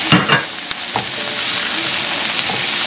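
Green chili and tomato hit hot oil in a pan for a mushroom and bean curry, crackling with a few sharp spits at first, then a continuous loud sizzle under light stirring, with no voices.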